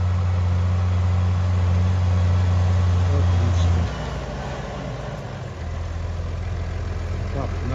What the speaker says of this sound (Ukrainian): Ну, а тракторець наш працює.